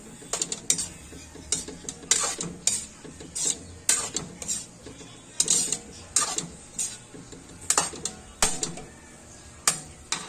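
Lasagna sauce being stirred in a pan after soy sauce goes in: a spoon makes repeated irregular scraping and clacking strokes against the metal, fairly quiet and close, without talk.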